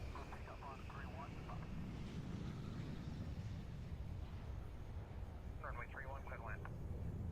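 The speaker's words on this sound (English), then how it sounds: "I'm curious to see when a plane lands" Plane landing in the airport-management game SimAirport, a steady broadband rumble of aircraft noise running the whole stretch at a moderate, even level with faint chirpy game tones coming and going.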